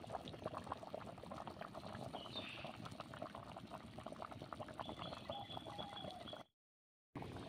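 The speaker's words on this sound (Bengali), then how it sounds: "দেখুন জলটা দেওয়ার পরে কি সুন্দর মাংসটা ফুটছে," Chicken curry simmers in water in a pot, giving a quiet, continuous bubbling and popping with a short dropout near the end.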